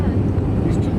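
Cabin of a Lufthansa Airbus A321 on final approach into Budapest International Airport, heard from inside as a loud, constant low roar of engine and airflow rumble with no break.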